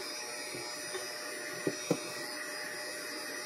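A heat gun blows a steady, close hum and rush of air while shrinking wrap onto a Samsung 40T battery cell, with a couple of faint clicks and taps partway through.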